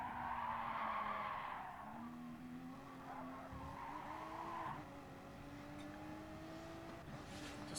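A race car in a racing video game at Dragon Trail Gardens runs with a steady, slightly odd-sounding engine note shifting through revs, with tire skidding and squeal layered over it, fairly quiet overall.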